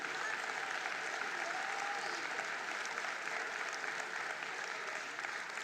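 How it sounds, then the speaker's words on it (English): Steady applause from an audience at a national exam results announcement ceremony, dense even clapping held throughout at moderate distance, with no talk over it. "Let's give them another round of applause indeed."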